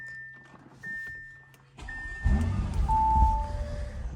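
A Bentley Bentayga Speed SUV's engine starts after a quiet cabin chime and a brief whir: the starter catches and the engine fires up loudly into a rumbling, revving idle.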